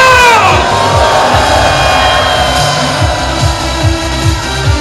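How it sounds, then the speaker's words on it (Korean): Loud crowd shouting and cheering at a Korean political rally protesting Democratic Party comment manipulation, a dense sustained roar of many voices with whoops and a rhythmic low thumping beat underneath, continuing throughout. "같이 큰 함성 한번 전국에 보내겠습니다."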